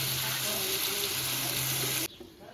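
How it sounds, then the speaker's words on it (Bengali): Water is poured in a steady gush into a pan of bottle gourd curry cooking over heat, a loud continuous splashing sizzle that stops abruptly near the end. "এখন আমি পরিমাণ মতো জল দিয়ে দিচ্ছি।"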